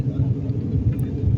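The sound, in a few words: airplane engine rumble while climbing after takeoff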